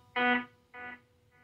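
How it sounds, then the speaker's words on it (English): A cheap digital echo pedal sounds a bright distorted note whose repeats fade and degrade, each successive echo shorter and duller than the one before, with no voices over them. "you can clearly hear the sound degrading with each successive echo."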